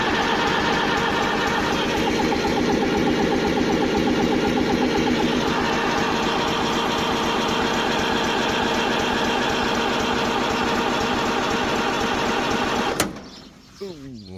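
An International Harvester B275 tractor diesel engine cranks on the starter, a loud, steady, rapid churning that runs for about thirteen seconds without catching, then cuts off abruptly.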